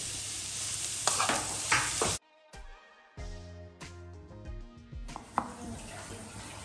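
Tomato paste sizzles loudly in a hot pan for borscht while being stirred, broken midway by a sustained musical passage before the frying hiss returns.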